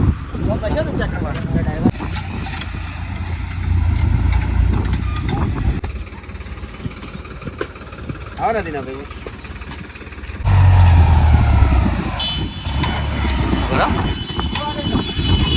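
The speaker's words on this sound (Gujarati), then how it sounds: "પોસ્ટ ટ્રેક્ટર ચાલુ કરી દીધા છે પૂરણ માટે" Tractor engines working on a land-filling job rumble steadily in the low range, swelling louder at moments, while people talk over the machinery nearby.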